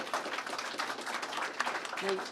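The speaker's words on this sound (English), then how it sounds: "let's give a round of applause to Melissa O'Connor" A crowd applauds Melissa O'Connor at Governor Hochul's public safety announcement, a sustained patter of many hands with voices faintly mixed in.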